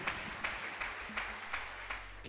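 Church congregation applauding, a faint, steady wash of clapping with a few louder regular beats, heard from a distance with no talk over it.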